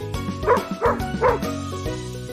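A cartoon dog barks three times in quick succession over a steady music bed, each yip-like bark sharp and close before the music carries on alone.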